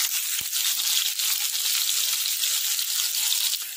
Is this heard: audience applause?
no